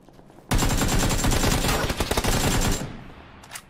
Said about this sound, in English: The AK bullets are so slow.